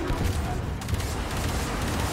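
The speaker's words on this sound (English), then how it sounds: "Let's see if I can shoot torpedoes out the sky." Gunfire in Warframe's Railjack mode as a ship's guns shoot at incoming torpedoes: a dense, continuous rattle of rapid shots with dull booms, filling the whole stretch at an even, busy level.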